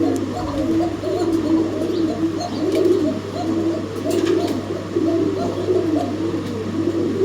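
Koka pigeons at a wholesale pigeon market coo in a steady, repeating rhythm, the soft throaty calls close and continuous over a low constant hum, with no talking.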